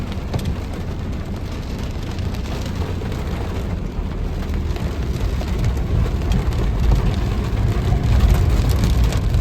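Steady, heavy rain pours onto a road near rice fields, a dense continuous hiss that grows slightly louder toward the end, with a low rumble underneath and no voices.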